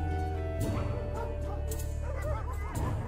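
Dogs barking at feeding time in a video game: a cluster of woofs and yips with a whimper breaks out in bursts over a steady low background hum and music, with some faint speech underneath.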